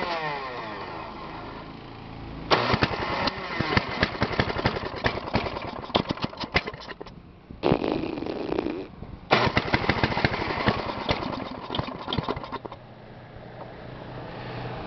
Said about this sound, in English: Oh yeah, grind that starter.